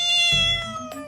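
A cat gives one drawn-out, tonal meow that is loud and close, followed by a second shorter, softer meow near the end.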